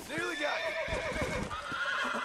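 A Kentucky Saddler horse in Red Dead Redemption lets out a loud, close whinny that rises and wavers, with hoof clip-clops and someone talking over it.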